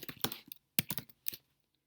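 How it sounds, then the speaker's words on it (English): Computer keyboard keys tapped in three quick bursts while a first and last name are typed, close and crisp with short pauses between clusters of clicks. "So I'm going to start by typing my first and last name,"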